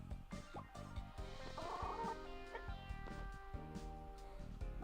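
A cartoonish chicken in the mobile game Squad Busters clucks in a quick run of short squawks, bright and close, over a background of game music and effects.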